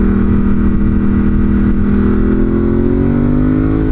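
A loud 2018 Ducati Monster 1200 S motorcycle engine roars continuously, its pitch climbing steadily as it revs hard under acceleration toward about 10,500 RPM, close and droning with no voices.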